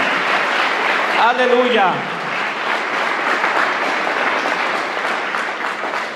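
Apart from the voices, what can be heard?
church congregation applause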